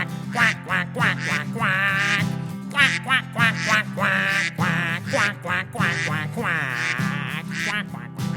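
A rapid run of nasal duck-like quacks repeats steadily over a sung Tu Bishvat children's tune, loud and close, probably an imitation worked into the song rather than a live bird.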